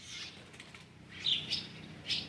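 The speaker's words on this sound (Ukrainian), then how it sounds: "а двоє щебечуть, такі радісні" A few short, high bird chirps ring out over a quiet, low background hum, spaced irregularly and fairly faint.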